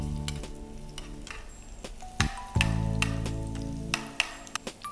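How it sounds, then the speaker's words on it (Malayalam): Onions sizzle and fry in hot oil for a Kerala-style cucumber curd curry, a steady crackling hiss with occasional stirring knocks and sharp pops throughout. "നമുക്ക് ഈ ചൂടായ എണ്ണയിലേക്ക് ഉള്ളി ഇട്ട് കൊടുക്കാം."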